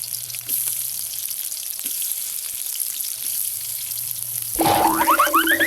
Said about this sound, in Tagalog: dahil po na-golden brown na po siya, ihulog na po natin ang ham.